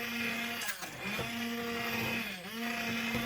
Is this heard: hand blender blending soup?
yes